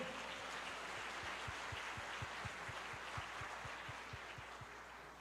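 A church congregation claps along in a steady, even rhythm, faint and distant beneath a broad hum of room noise, with no voices standing out.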